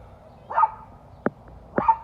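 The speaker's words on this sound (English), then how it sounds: "the dogs are barking because there's people walking down the street" Dogs bark at people walking down a street on a summer day: three separate barks spaced over two seconds, one short and sharp in the middle, heard at moderate distance over a quiet background.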